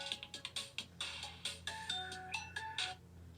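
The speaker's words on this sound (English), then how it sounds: "And the phone's ringing, so there you go." Phone ringtone playing a quick, bright melodic pattern of short repeated tones, fairly faint and steady with no talk over it.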